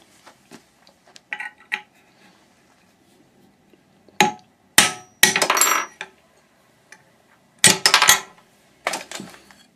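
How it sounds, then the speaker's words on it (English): Sharp metallic taps of a hammer striking a nail set to knock a spindle out of a hard drive, a few light knocks then a cluster of louder close strikes, with no talk. "You just need to put a little nail set in that little hole, and it'll pop right out."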